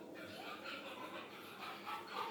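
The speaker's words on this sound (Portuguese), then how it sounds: "tem uns cachorros latindo aqui no fundo" Several dogs bark and whimper at a distance behind a continuous low murmur, their yips and yelps rising in short bursts throughout.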